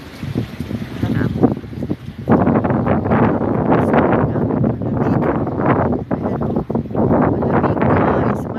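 Strong wind roars and buffets steadily across the whole clip, loud and close, with a brief lull near the start.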